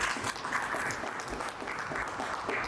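An audience at a talk on the Constitution of India applauds the preamble, a steady, dense wash of clapping that holds evenly for a few seconds with no pauses.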